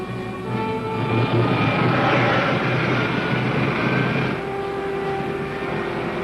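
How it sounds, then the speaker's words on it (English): Rocket main jets on a 1953 Commando Cody serial spacecraft fire with a loud, steady roaring rush. The roar swells and holds, then eases slightly partway through, with no voices. "Fire main jets. Fire main jets."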